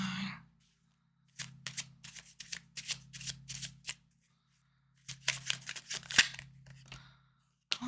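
Tarot cards are shuffled by hand in quick riffled bursts, crisp and close, with two runs of rapid flicking separated by quiet pauses and no talk.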